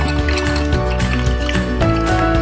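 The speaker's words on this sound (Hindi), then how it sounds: "और यहाँ पर इसमें मैं मज़ीद जो है ठंडा पानी शामिल करूँगी" Cold water poured into a glass of falsa sherbet with ice cubes, a continuous liquid gurgle and splash with faint clinks, close and fairly loud throughout the short stretch.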